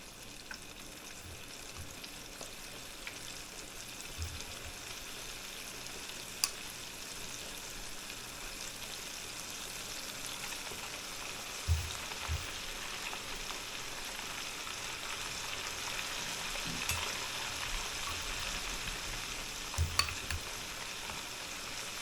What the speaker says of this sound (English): start dropping them in the grease just to make some more extra room for them